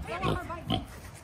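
A pig on a farm during piglet catching, grunting twice in short close bursts over a constant outdoor background.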